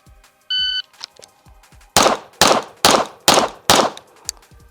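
Five handgun shots fired at 20 yards, sharp loud reports evenly spaced about half a second apart, preceded by a short electronic beep and some faint clicks.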